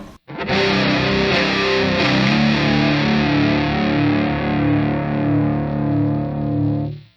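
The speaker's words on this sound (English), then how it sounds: "I like the darker sounds of the chorus with distortion" Electric guitar run through a Boss Super Chorus CH-1 pedal with distortion, a thick, continuous wall of saturated, shimmering chords held for several seconds at steady loudness, played alone without talk.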